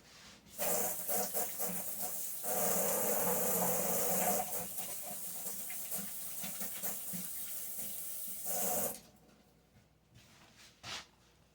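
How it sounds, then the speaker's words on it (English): Water runs from a kitchen tap while hands are washed under it, a close, steady hiss that rises and falls and then stops, followed by a few faint splashes. "All right, I'm going to wash my hands."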